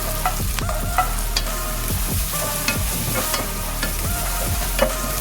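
Chopped onion and garlic sizzle in hot oil in a pan for gobi manchurian, a steady close frying hiss broken by repeated scrapes and clinks of stirring.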